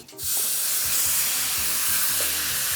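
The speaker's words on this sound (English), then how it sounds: "I've got the wok back on the heat, a little bit more oil. Beef goes in." Beef hits a hot oiled wok with a loud, steady sizzle that keeps hissing throughout, a low rumble beneath.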